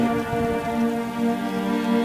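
Red rain pouring from a black mist over people in front of a building in a narrated story, a steady even hiss of rainfall with a sustained tonal drone beneath, continuous and fairly loud throughout.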